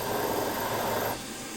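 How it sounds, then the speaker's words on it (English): A center drill cuts a hole in the large end of a model steam engine part on a machine, giving a steady close rasping whir that drops in pitch and level near the end. "Just center drill the hole"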